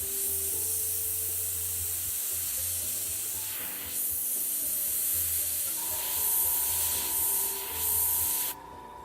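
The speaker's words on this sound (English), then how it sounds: "I spray it fairly high pressure for this technique, because I want a nice thin line" Steady high-pressure airbrush hiss spraying thin paint lines on a model horse, running continuously for about eight and a half seconds, fairly loud and close, then cutting off abruptly.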